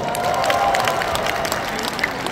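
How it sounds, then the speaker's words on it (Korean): Audience applause at a Rotary International District 3640 year-end dinner show, a dense, steady wash of clapping from a crowd filling the whole stretch without pause. "박수."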